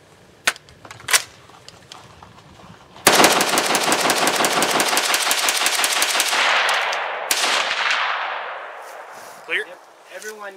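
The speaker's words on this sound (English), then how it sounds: "This is the Steyr AUG with 55 grain Tula H-bar on adverse gas." Steyr AUG rifle with heavy barrel firing 55 grain Tula steel-case ammunition on the adverse gas setting outdoors: a couple of single loud shots, then a sustained rapid automatic burst of roughly four seconds with a ringing tail, very loud and close.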